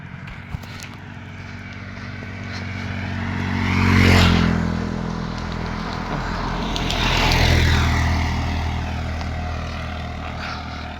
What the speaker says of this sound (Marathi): या रस्त्याला गाड्या सारख्या चालू आहेत